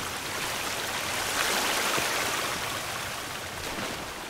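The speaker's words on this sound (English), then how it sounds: "I hear running water." Continuous rushing of running water in the game Sons Of The Forest, a steady hiss that swells slightly midway, with no voices.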